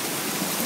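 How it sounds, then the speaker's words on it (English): Rain falls at night as a steady, broadband hiss, with no voices and nothing else standing out above it. "Look at the rain!"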